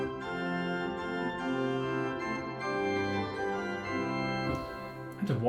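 Rugwerk of the Bovenkerk pipe organ in Kampen with a 2-foot octave stop drawn, playing a continuous bright polyphonic passage, sustained chords moving steadily at an even loudness from start to finish.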